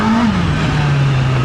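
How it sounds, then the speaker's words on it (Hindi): Honda CBR650R inline-four motorcycle exhaust revving, loud and close, a steady droning note that dips slightly in pitch and holds. "आप लोग को एग्जॉस्ट नोट में फ़र्क पड़ रहा है, कमेंट करके बता देना"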